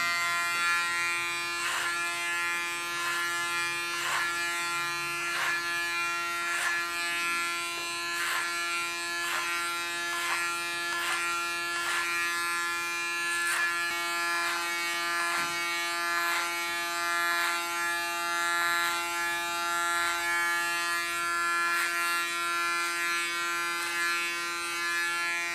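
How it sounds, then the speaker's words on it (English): Electric hair clippers buzz steadily and close up while working clipper over comb on short sides of a summer haircut, with faint rhythmic snips and ticks of the comb over the constant hum. "And then I do clipper over comb."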